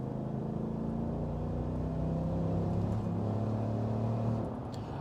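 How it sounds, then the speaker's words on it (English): A 2024 GMC Sierra 1500 AT4X pickup's V8 exhaust gives a steady, deep low rumble that holds its pitch for about four and a half seconds, then eases off slightly, with no voices. "hopefully you got a nice earful of the exhaust note"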